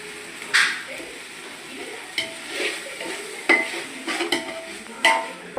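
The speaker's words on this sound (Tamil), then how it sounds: "புதினாலாம் போட்டாச்சுப்பா நல்லா வதக்கிட்டு" Onion, mint and coriander stir-fried in a pan for mutton biryani, with a soft steady sizzle broken by several sharp scraping and clinking strokes of a spoon against the pan.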